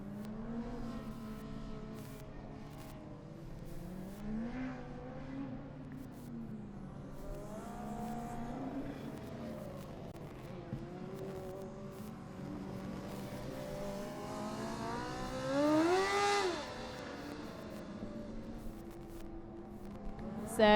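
A Formula Student race car laps the Hockenheim track during the endurance event, its engine rising and falling in repeated revving sweeps, passing closer and louder near the end against a distant background.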